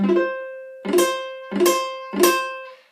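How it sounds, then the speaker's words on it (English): A ukulele chord strummed four times at an even pace, each strum ringing bright and clear before the next, close up and alone. "when you strum, it should sound like this."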